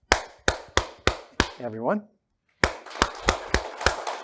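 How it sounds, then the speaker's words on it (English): A group of people clap their hands together in two bursts of about five sharp claps each, separated by a brief spoken word and a pause, at a demonstration session in Dallas. "if you take your hands and clap them together about 5-6 times"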